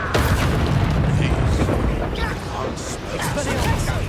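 Incendio fire spell cast in the video game Hogwarts Legacy, a loud rumbling whoosh of flame and blasts filling the clip over dense combat noise and a voice.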